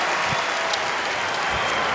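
A Kentucky home crowd applauds at a college basketball game against Auburn, a loud, steady wash of clapping and cheering that fills the arena for the whole moment.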